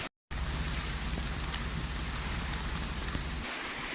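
A rain-swollen stream rushes steadily in a broad, loud wash of water that fills the whole stretch and never lets up.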